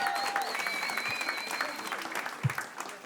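Audience at a comedy club applauds steadily, a dense continuous clatter of many hands with faint crowd noise and a few whistles running through it.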